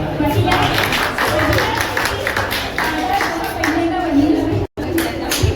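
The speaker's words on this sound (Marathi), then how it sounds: "टाळ्या." Applause from guests at a 25th wedding anniversary celebration, steady dense clapping filling the clip at close range, with a brief dropout near the end.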